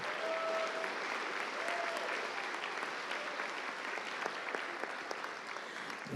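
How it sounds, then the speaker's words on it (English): A crowd at a miniature-painting awards ceremony applauds gold winners with a sustained, thick clatter of clapping, a couple of short whistles or whoops rising over it early on, fairly distant and even. "Let's get a round of applause for those golds."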